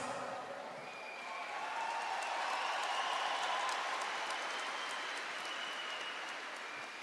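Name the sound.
audience applause at a religious camp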